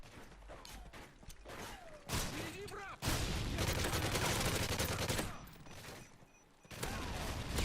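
Gunfire and explosions from a shooter video game: dense bursts of rapid shots and booms, with a sustained heavy barrage in the middle and short pauses between volleys.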